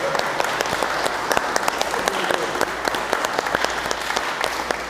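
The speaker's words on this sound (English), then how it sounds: "how about a big round of applause for violinist Tino?" Wedding ceremony guests applaud a violinist, a steady patter of many hands clapping throughout at moderate volume, with no voices over it.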